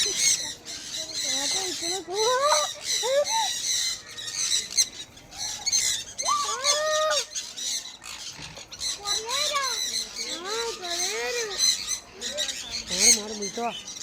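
Lots of small birds chirping and squawking together at a park in Wayanad, Kerala, with busy overlapping calls filling the scene at a steady moderate loudness.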